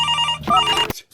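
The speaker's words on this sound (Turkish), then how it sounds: "Bu telefon!" A telephone bell rings loudly in bursts during a Surgeon Simulator VR gaming session, two clear ringing stretches separated by a brief dip, then cutting off abruptly into silence.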